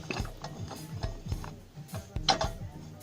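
Ratchet wrench tightening the wheel bolts on a ZAZ Tavria front hub, a run of close, crisp clicking strokes in short bursts with brief pauses between them, no talk.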